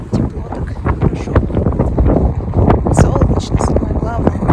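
Strong outdoor wind buffets the microphone in steady rumbling gusts while someone talks in Russian about the warm, sunny weather.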